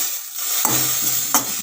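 Drumstick leaves with a little water being mixed in a pan, a short burst of hiss and sizzle with two quick spoon scrapes against the pan, close and fairly loud.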